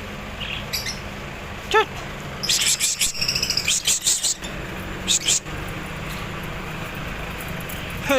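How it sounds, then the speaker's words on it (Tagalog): Birds chirp in quick bursts of high tweets against steady background noise at an outdoor market in Tanza, Cavite, with a voice briefly heard. "Ang dami ibon mga kapaktas"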